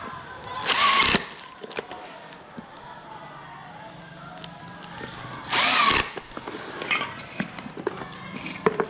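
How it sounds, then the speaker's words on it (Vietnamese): A cordless screwdriver drives screws to fasten a security camera onto the front panel of a technical box, with two short whirring bursts several seconds apart and light clinks and handling noise between them. "Dùng máy bắn vít để cố định cái cam này lên cái tấm, cái mặt ở trước của cái hộp kỹ thuật này."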